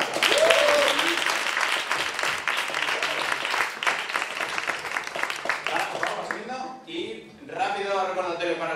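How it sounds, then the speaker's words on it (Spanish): Audience applauds a poetry slam duo at a live event, with dense clapping running for several seconds before thinning out as voices take over near the end. "Y un aplauso para la dupla Raudana Parra."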